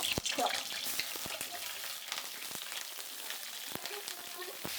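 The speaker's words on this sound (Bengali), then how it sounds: "এটা শুধু লবণ দিয়ে সুন্দর করে ভেজে নেব।" Diced pointed gourd frying in hot mustard oil with salt in a kadai gives a steady soft sizzling hiss, punctuated by occasional crisp pops and spatters, close and fairly quiet.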